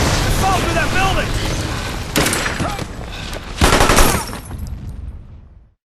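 Machine gun fire in the Xbox 360 war game Brothers in Arms: Hell's Highway, dense loud bursts and booms blending into battle noise, with shouting voices mixed in, before fading out at the end.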